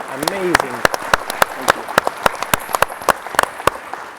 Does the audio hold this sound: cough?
no